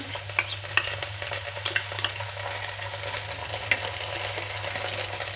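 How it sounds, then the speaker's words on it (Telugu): A spatula stirs red chili, tomato and soy sauces into potato carrot Manchurian in a pan, making close, uneven scraping and clicking over a light sizzle. A steady low hum runs underneath, with no voices. "సోయా సాసు ఒకసారి బాగా కలుపుకున్నాము"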